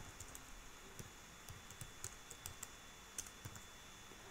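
Typing on a computer keyboard, irregular soft key clicks at a moderate pace, faint and close with a quiet hiss underneath.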